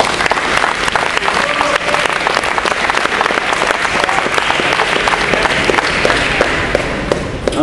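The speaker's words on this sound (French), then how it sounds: "on les applaudit" A crowd applauds steadily and loudly throughout, a dense wash of many hands clapping for athletes being introduced at an event, with faint voices mixed in.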